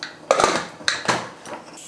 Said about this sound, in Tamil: குக்கர் மூடி போட்டு மூடிட்டு